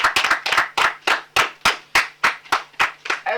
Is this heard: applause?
yes